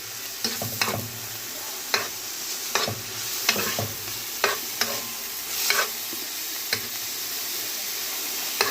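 Chopped onion being stirred in a pan with minced meat, frying with a steady background sizzle and repeated sharp stirring scrapes and taps throughout, close and fairly quiet, with no talking.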